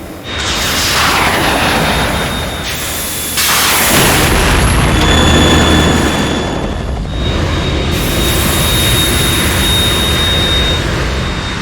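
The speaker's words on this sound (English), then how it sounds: "You have to shoot the Harrier down." Harrier jet in the Metal Gear Solid 2 video game, giving a loud, sustained roaring jet engine with booming surges and whining high tones, steady and close throughout and mixed with explosive blasts, with no talk.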